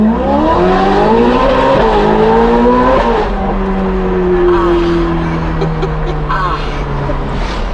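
Engine of a 1980s Ferrari revving and pulling hard on the road, pitch climbing through gears then settling into a steady drone, loud and close from inside the car, with people talking over it.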